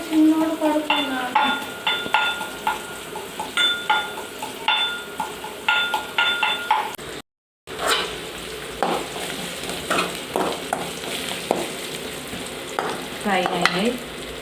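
Food fries in a pan for a Telangana-style chicken dish, a continuous close sizzle broken by repeated scraping stirs of a utensil against the pan, with no talking.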